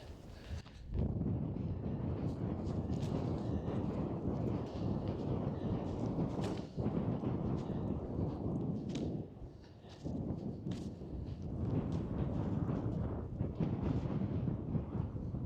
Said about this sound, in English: very windy, so trying to shield the mic.